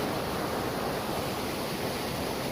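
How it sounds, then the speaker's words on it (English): Runoff rainwater pouring from a city drain into a river at a concrete wall, a steady broadband rush of falling water, close and constant with no pauses. "it's just got to be runoff from rainwater throughout the city"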